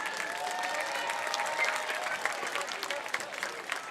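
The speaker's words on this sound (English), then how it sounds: "Please give Ms. Casey Kendrick a big round of applause." An audience honoring an elementary school teacher breaks into steady applause, a continuous wash of claps heard from across a room, with light crowd murmur beneath.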